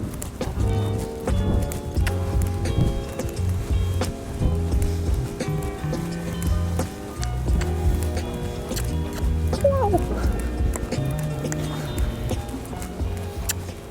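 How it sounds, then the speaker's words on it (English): A horse trotting during a riding warm-up lesson, its hoofbeats a steady rhythmic clip-clop over continuous music, with people talking now and then. "You trot like this, then you canter with every horse?"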